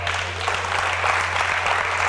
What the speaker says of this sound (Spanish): ese es un aplauso hipócrita y de compromiso